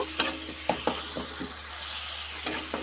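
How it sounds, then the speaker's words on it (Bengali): A turmeric spice paste fries in oil while being stirred, a steady sizzle punctuated by repeated sharp spatula taps and scrapes against the pan. "মশলাটাকে ভালো করে কষিয়ে নেব।"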